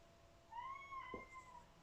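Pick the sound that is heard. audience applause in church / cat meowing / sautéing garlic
cat meowing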